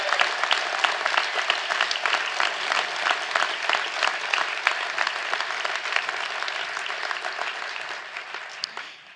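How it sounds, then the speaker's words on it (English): Sustained applause from a large audience honoring city workers at a State of the City 2025 event, dense steady clapping across the whole stretch that fades toward the end. "can we please just give a round of applause for all of the city workers"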